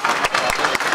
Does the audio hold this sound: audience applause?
yes